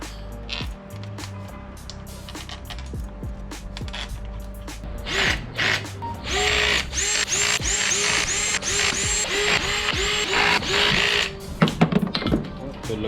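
A power tool runs bolts back onto a 2004 Honda Civic manual transmission, with repeated short whirring bursts and clicking ratchet-like mechanism sounds close by, amid shop clatter.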